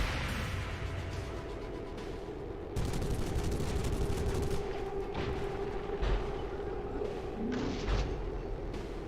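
Pistol shots and heavier booms from combat in the tactical video game XCOM 2, separate sharp reports and thuds spaced over a steady background hum, with a voice talking in places.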